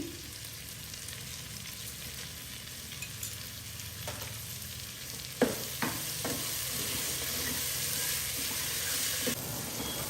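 Onions with salt fry in oil in a pan for a jeera rice dish, a continuous close hiss with a few clanks and scrapes of a spoon stirring partway through.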